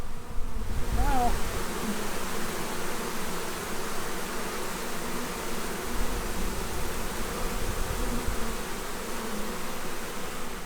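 Package honey bees buzzing in a dense, continuous swarm drone during hive installation, loud and close throughout, with no pauses.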